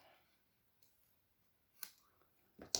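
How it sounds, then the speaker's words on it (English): Quiet room with a few soft, crisp snips of scissors near the end, spaced apart. "just cut these edges off"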